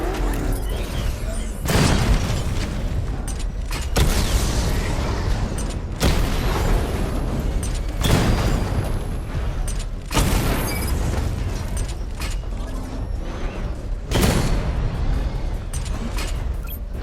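Missile barrage explosions from Batman: Arkham Knight: a series of heavy booms roughly every two seconds over a constant rumbling background, loud and close, with faint voices in the mix.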